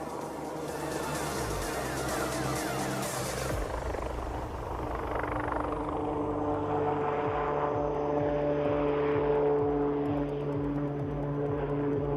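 A helicopter's rotor thumps and its engine whines steadily at the Aero India 2021 flying display, the pitch and rhythm shifting as it performs a quick stop, sideward flight and tail-up rearward flight nearby.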